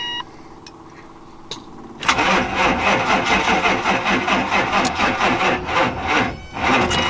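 After a fuel delivery fix, an engine cranks briefly, then catches at about two seconds and runs loud and close with a rough, pulsing idle that dips near the end before picking up again.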